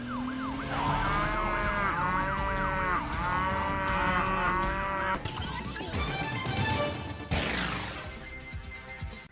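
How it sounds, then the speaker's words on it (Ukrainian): A cow moos amid loud, layered music with wavering siren-like tones, the scene busy and continuous throughout. "лем не корову"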